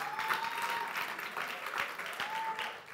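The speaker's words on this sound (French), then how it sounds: "Ouais, allez, applaudissez, c'est bon." Audience applause at a youth community event in Bordeaux, steady dense clapping throughout with a faint tone and some background voices.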